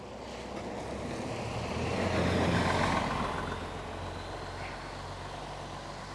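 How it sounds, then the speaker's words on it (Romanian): A large bus approaches and passes by outdoors, its broad engine and road rumble swelling to a peak midway and then fading away, with no voices. "Și vine un mare, mare autobuz."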